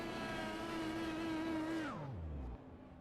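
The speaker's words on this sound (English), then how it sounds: "Doing the reverse burnouts down the back front straightaway." A race car holds a loud, steady engine drone during a reverse burnout on the Indianapolis Motor Speedway straightaway, then its pitch sinks and the sound fades away.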